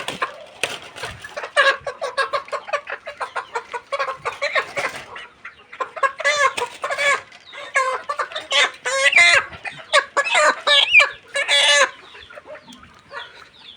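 Chickens with an eye ailment, their eyes closed and watery, cluck loudly and repeatedly at close range in a dense, busy chorus, with occasional crowing-like calls and no talking.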